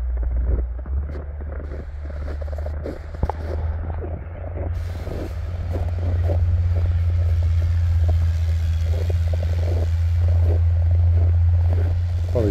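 A blue Bombardier wide-gauge rail vehicle on a test run in light snow, its engine a steady low drone that grows louder and fuller midway, with gusty wind rumble on the microphone and no talk.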